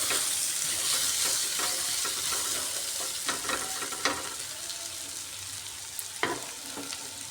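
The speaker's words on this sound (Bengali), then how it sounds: "আলুটাকে সেইভাবে আরও একবার নাড়িয়ে এতে করে আলুটা কিছুটা নরম হবে ভাজাটাও সুন্দর হবে" Potatoes fry in a pan with a loud, steady close sizzle while a utensil stirs them, scraping and clinking at irregular moments throughout.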